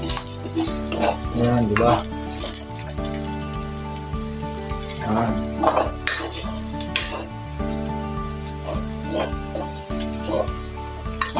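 Leftover rice stir-fried into Filipino garlic fried rice, sinangag, crisping in a pan, with a steady loud sizzle and scraping stir strokes throughout. A brief spoken phrase breaks in, and heavy rain falls in the background in Tondo, Manila.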